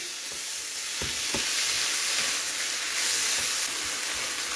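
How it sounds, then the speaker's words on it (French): Mushrooms, about 200 g, stirred into a hot pot in a Thermomix-style cooking setup, giving a steady soft sizzle with a few brief knocks as they are mixed in, and no one speaking. "Je viens ajouter 200 g de champignons. Et je mélange le tout."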